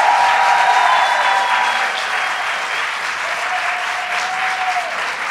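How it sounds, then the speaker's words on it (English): A crowd applauds legislators at a governor's bill signing on women's reproductive rights, dense clapping that starts loud and eases slightly, with faint whoops or tones drifting above it. "let's give a round of applause to all the legislators who finally got it done."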